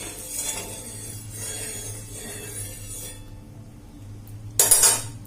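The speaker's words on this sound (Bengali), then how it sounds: "তেলটাকে একটু খন্তি দিয়ে চাড়িয়ে নিলাম।" Metal spatula scraping and stirring oil across a griddle pan (tawa), a steady close scratchy clatter through most of the stretch, pausing briefly before a sharper, louder metallic burst near the end.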